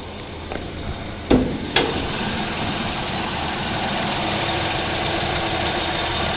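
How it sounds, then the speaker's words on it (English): Close-up of a 1960 Chevrolet Apache truck engine idling quietly, a steady smooth hum with two short clicks early on before the even idle settles. "Thing runs like a sewing machine,"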